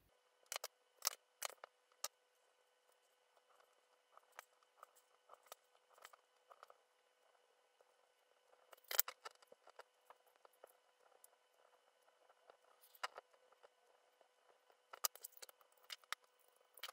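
Scissors snip through pieces of ribbon while making a scrapbooking Christmas advent calendar, several short crisp cuts in clusters with quiet pauses between, close and faint, with no voice.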